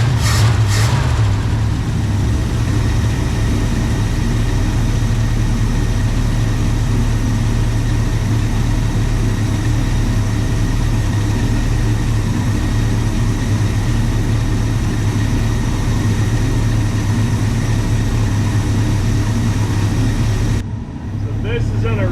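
A 1966 Pontiac Grand Prix barn find with an original Carter AFB carburetor, its engine heard idling close up in a steady low rumble that runs for about twenty seconds before briefly dipping.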